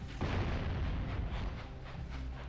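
Cannon fire in a video game on Sentinel Beach: a deep booming blast lands early, then rolling rumbles and a few muffled pops trail off, fairly loud and with no talk.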